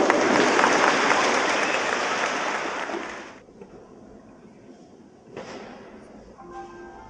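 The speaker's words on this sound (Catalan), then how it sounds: "no falta aplaudiment per ells perquè cantin molt i molt bé" Audience applause for a children's choir at a youth and primary choir gathering, a dense wash of clapping that sustains for about three seconds, then cuts off abruptly, followed by quiet room tone and a brief soft swell later.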